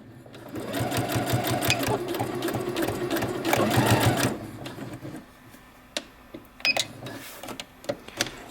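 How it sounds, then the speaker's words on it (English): A sewing machine lock stitching a fabric letter keychain runs in a fast, steady whir of needle strokes for about four seconds, then stops, followed by scattered small clicks and handling sounds, close up. "And I'm going to lock stitch at the end."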